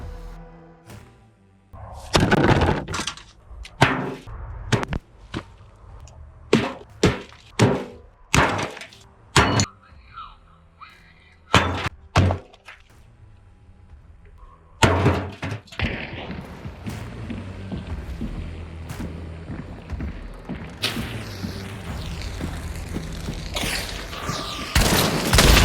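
Lever action of an unloaded 1896 Henry rifle cycled repeatedly, giving sharp metallic clacks and thuds at irregular intervals followed by heavier rustling and handling noise, close with no voice.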